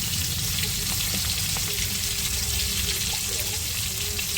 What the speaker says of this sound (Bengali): দিয়ে একটু নাড়াচাড়া দিয়ে দেবো